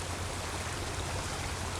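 Creek water flowing steadily as a broadband rushing wash with a low rumble, constant and fairly close, with no voices or breaks.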